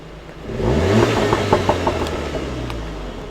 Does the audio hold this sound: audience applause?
no